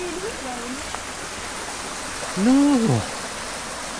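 A river near a Scottish loch flows with a constant, close, broadband rushing hiss. A person speaks briefly over the water noise.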